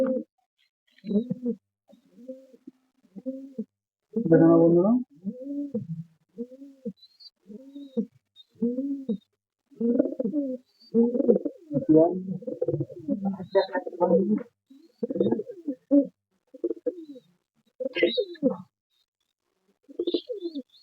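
Repeated low, throaty cooing calls in a steady rhythmic series, close by, with some overlapping voices and occasional faint chirps.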